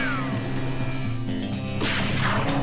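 A gunshot in the game West of Loathing, a sharp crack over steady background music, followed shortly by a short burst of noisy clatter.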